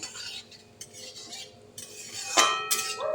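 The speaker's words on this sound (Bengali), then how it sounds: "এবার নেড়ে চেড়ে রাঁধুনিটা একটু লাল হবে" Radhuni spice seeds stirred in hot oil in a pan, a spoon scraping and clinking against the metal with soft irregular strokes and a light sizzle, one sharper clatter near the end.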